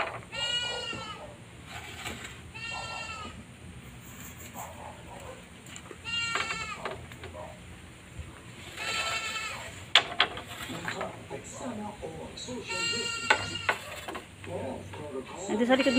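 A goat left behind by its herd bleats repeatedly in wavering calls at a moderate distance outdoors, with a person talking between and over the cries.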